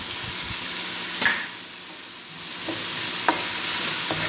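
Onion and garlic brown in a frying pan, a constant near hiss of sizzling oil with a few sharp scrapes and taps from a utensil, no one speaking.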